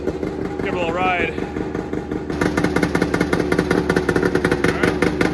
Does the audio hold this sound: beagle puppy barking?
no